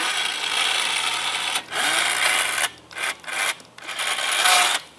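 A 12V powered exoskeleton suit lowers its legs with a steady, close mechanical whir and rasp that holds for a while, then breaks into several shorter motor bursts.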